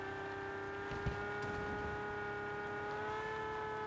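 A car engine in the PUBG video game holding a steady, droning hum with sustained tonal whine, fairly quiet and even, with one brief knock near the start and no talk.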